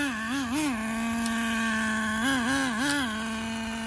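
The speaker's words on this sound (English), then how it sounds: "The engine fired up." A Traxxas 4Tec RC car engine with a new transmission clutch hums at a steady idle pitch, rising in short revving wobbles a few times, moderately loud and close with no voices.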